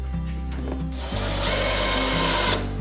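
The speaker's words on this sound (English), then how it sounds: "What I'm doing here is just drilling out the seatbelt bolts" A power drill boring out seatbelt bolts in the rear floor of a truck cab under restoration, a loud continuous whine that steps up in pitch and intensity partway through, close to the mic.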